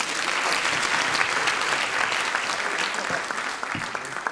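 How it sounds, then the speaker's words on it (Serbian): An audience at a live comedy show breaking into applause, a dense, steady burst of clapping from many hands that holds for several seconds. "Spontani aplauz."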